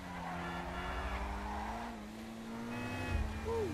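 A Ferrari F12 Berlinetta is driven through city streets in GTA 5 using a steering wheel. A steady, fairly quiet engine drone rises and falls in pitch, with a brief tire squeal near the end and a voice murmuring faintly underneath.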